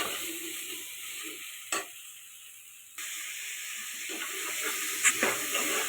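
Onions sautéing with ginger garlic paste in a pan for mushroom biryani, a soft continuous sizzle with a faint high whine, a few light stirring clatters, no speech.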